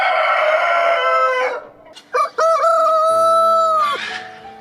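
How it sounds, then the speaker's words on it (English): A village rooster crows loud and close among other roosters, several drawn-out crows overlapping and following one another in the open morning air. "The rooster's crow is no longer solitary, but blends with footsteps and conversations"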